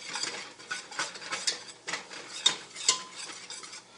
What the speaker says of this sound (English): Whisk it in really well with our whisk here.